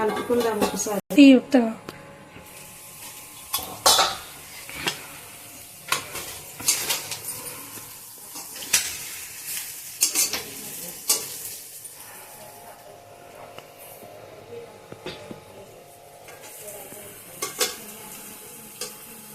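Chicken liver frying in a pan is stirred with a metal spoon, making repeated scrapes and clinks against the pan over a faint sizzle while someone talks.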